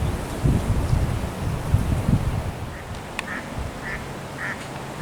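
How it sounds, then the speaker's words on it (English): Ducks quack at a pond in a handful of short, moderately distant calls that come mostly in the second half, over rustling wind noise. "All these ducks that have been keeping ahead of me as I've walked south along the western edge of this pond."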